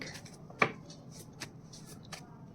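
Tarot cards are shuffled close by in a few brief, soft riffling bursts with one sharper snap early on, and no speech over them.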